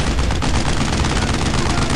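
Gunfire in the World War II shooter Brothers In Arms: Road To Hill 30, a dense, loud burst of rapid overlapping shots with no pauses, heard up close.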